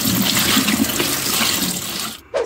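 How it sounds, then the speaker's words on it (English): Chopped cabbage is rinsed under a running kitchen tap, a loud steady splashing water rush that cuts off near the end with a brief clatter. "Rinse your cabbage, people."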